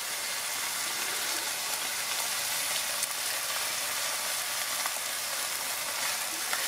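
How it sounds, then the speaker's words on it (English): Browned beef mince simmers in an Asian-style sauce in a pan, a soft, continuous sizzle and gentle bubbling, faint and even throughout with no talk. "now that our mince is nice and brown, I'm going to go ahead and add the sauce that we prepared before"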